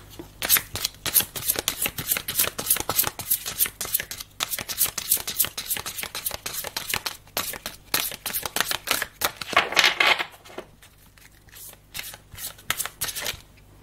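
Tarot cards are shuffled briskly for a reading, a rapid run of riffling flicks and slaps that stops only briefly near the end, then a few softer card snaps as the cards are drawn.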